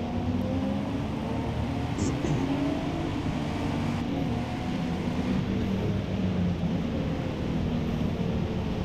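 A race car in the video game Forza Motorsport, on a wet track, gives a steady, roaring engine drone for several seconds, rising and falling slightly in pitch under continuous load.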